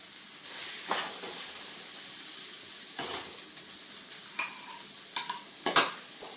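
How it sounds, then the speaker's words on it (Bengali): Cooked cabbage is scooped from a wok into a bowl, with soft scrapes and light metallic clinks of a utensil against the pan, quiet and intermittent with a few sharper taps toward the end. "এবার দেখো বাঁধাকপিটাকে কড়াই থেকে একটা বাটির মধ্যে তুলে নিচ্ছি"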